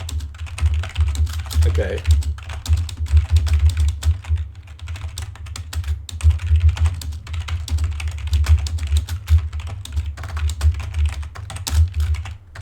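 Rapid typing on a computer keyboard clatters steadily for several seconds, close and fairly loud, with a brief spoken word partway through.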